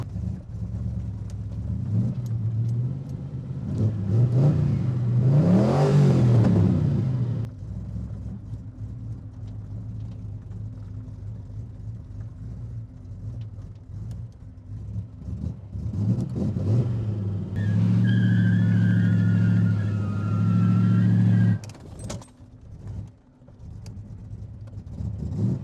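A 1975 Chevrolet Corvette Stingray V8 revs in bursts, with a loud rise and fall early on, steady idle rumble between, and another strong rev later before the engine settles and cuts off.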